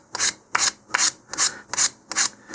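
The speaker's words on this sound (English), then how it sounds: "just sand down that cardboard until it's flush with the wood" Rhythmic rasping strokes of sandpaper scrubbing cardboard flush with wood on a model rocket, six even back-and-forth passes about half a second apart, close and steady.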